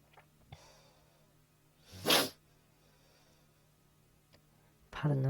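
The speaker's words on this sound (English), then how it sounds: "Pardon another sniffling." A single loud, sharp sniffle up close amid quiet, followed near the end by another abrupt nasal sniff.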